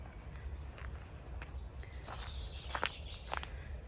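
Birds chirping at dawn in a botanical garden in Manukau, Auckland, with scattered short high calls over a low steady background rumble, faint and somewhat distant.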